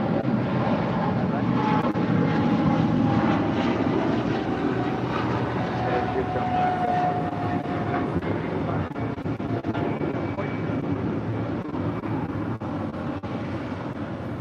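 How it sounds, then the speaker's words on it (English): An American Airlines Boeing 777-300ER leaving LAX for London Heathrow makes a broad engine rumble, strongest early and slowly easing off, with people talking throughout. "That is American Airlines Flight 136, departing to London Heathrow on the 777-300ER."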